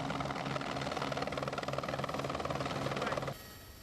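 A twin-engine Squirrel police helicopter, a loud, rapid pulsing engine and rotor drone held steady for over three seconds, then cutting abruptly to a quieter hum.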